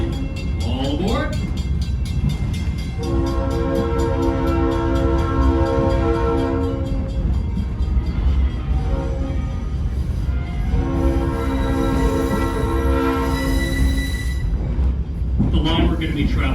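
A New Hope Railroad excursion train in New Hope, Pennsylvania sounds two long, loud horn blasts over the heavy, continuous rumble of the moving train.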